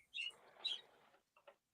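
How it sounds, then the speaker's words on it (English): A pet bird gives a short, quiet raspberry: a buzzy sputter mixed with a few thin chirps, followed by two brief faint peeps. "And then Jasmine, she now looks at you and raspberries you"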